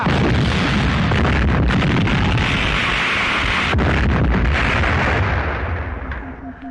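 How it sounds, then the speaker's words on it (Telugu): A bomb explosion in a Telugu feature film, a loud sustained roar of blast and rumble that fills the whole stretch before fading away at the end. "బాంబు పెట్టాం. కాసేపట్లో పేలుతుంది."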